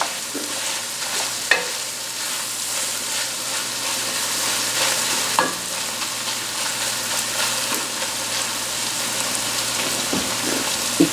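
About two pounds of sausage frying in a pot for Cajun jambalaya gives a steady, close, bright sizzle throughout, with occasional pops and spoon knocks.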